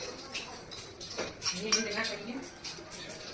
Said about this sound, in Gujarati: નાખી દીધો પછી ચમચીથી થોડું હલાવી દેવાનું